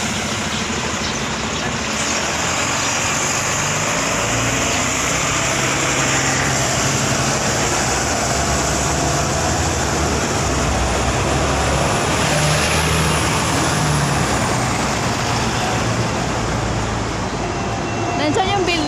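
Continuous Hong Kong city traffic rumble with trams and buses, engines idling and passing, a steady din of heavy vehicles nearby, with talking mixed in underneath.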